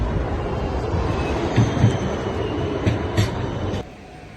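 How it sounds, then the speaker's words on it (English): A tram pulls in on a Budapest street, a steady rumbling roll with a few louder clanks and squeals before the noise drops off near the end. "Oh, here's my tram,"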